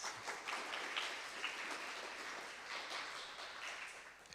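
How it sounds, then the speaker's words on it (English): Audience applause for storytellers at a storytelling event in an art gallery, a continuous wash of many hands clapping, moderately distant and even in level, with no talk over it. "So let's give them a warm applause."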